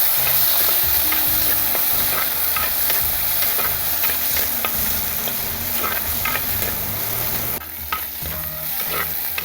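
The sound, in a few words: stirring frying food with spoon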